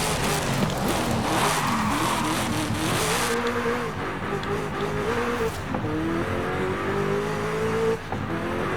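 A racing car engine in the video game Forza Horizon 5 roars and revs through gear changes, pitch climbing and falling, with tire squeal and road noise, loud and continuous.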